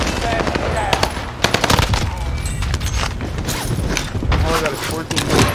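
Enemy gunfire crackles in Warzone Rebirth, rapid automatic bursts and scattered single shots mixed with mechanical clatter, loud and close, while players talk over the shooting.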